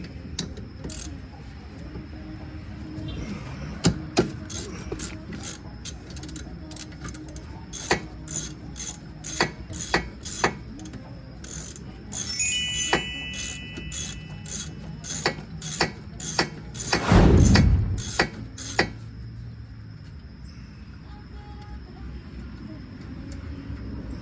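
A ratchet wrench cranks loose the 12mm caliper bolts on a Honda CR-V rear brake, with quick runs of sharp clicking pawl strokes, a brief heavier mechanical rasp midway, and faint background noise in a garage.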